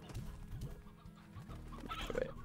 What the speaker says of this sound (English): They're gonna eat all my chickens.